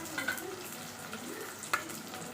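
Small shallots sautéing in a pan for a South Indian fish curry (meen kulambu), with a soft sizzle and a couple of brief stirring scrapes, faint and close.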